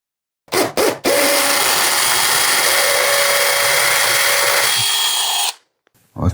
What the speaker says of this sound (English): This is me about to drill a hole the modern way with my 77 pence Temu gadget.